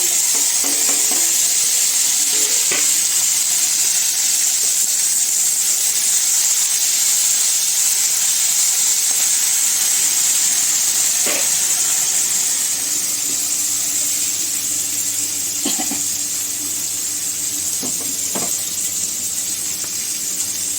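Curry leaves and tomato dropped into hot oil give a constant bright hiss and sizzle that fills the whole stretch, with a few faint knocks and clinks of utensils, and no talk.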